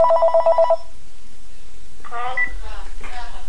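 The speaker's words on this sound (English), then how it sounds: "The phone is ringing." A telephone rings briefly with a quick burst of electronic tones at the Service Dog Project, then falls silent as a person begins speaking nearby.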